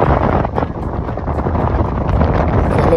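Sea wind gusts steadily across the beach at Mandarmani, a continuous, loud, rough rushing that buffets the microphone for the whole stretch, with no voices.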